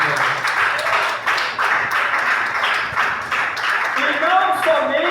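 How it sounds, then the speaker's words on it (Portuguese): Congregation applauding during a church sermon, irregular clapping from a gathered crowd with distinct individual claps standing out, and a voice speaking over the end of the applause. "Pode aplaudir aí."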